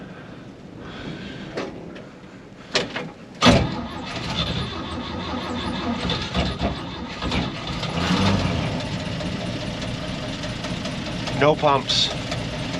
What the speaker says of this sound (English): It's really cold out here, and we're gonna cold start it.